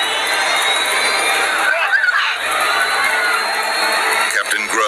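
A KLM jet airliner roars close on a foggy runway, loud and sustained engine noise building as it bears down, with voices talking over it.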